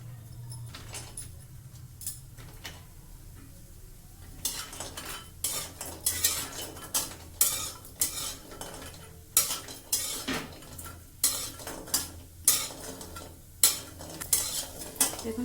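Badi lentil dumplings fry in hot oil while a utensil stirs them, making a run of loud, close scraping and clattering strokes against the pan over a low hum, with no talking.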